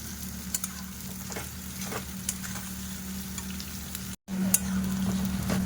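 Sliced onions with a pinch of salt fry in hot oil in a steady, even sizzle, with faint stirring clicks and a brief dropout before the sizzle resumes slightly louder.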